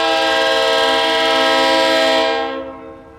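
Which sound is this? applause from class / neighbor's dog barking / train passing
train passing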